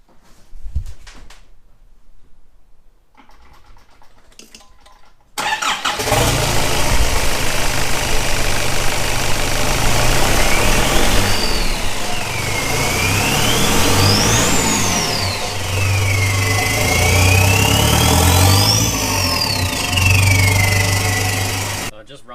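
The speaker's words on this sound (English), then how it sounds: "we're just going to start it up just for shits and giggles, just with the downpipe in" A Nissan Navara D22 with the ZD30 diesel fires up running only a downpipe off the turbo and no exhaust, catching after a quiet start and settling into a loud, raw, clattering idle that swells with a few revs.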